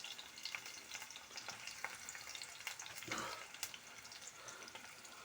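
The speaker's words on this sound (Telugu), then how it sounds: "చూడండి ఎంత బాగా కాగిందో నూనె సప్పమంటుంది" Hot oil for a mushroom curry sizzles and crackles in a pan, a faint, steady frying hiss with scattered pops and a brief stirring scrape, with no talk over it.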